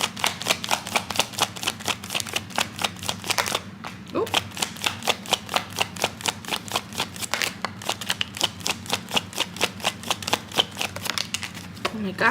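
A deck of tarot cards being shuffled over and over in rapid, rhythmic riffles, close and loud, with brief pauses between bursts.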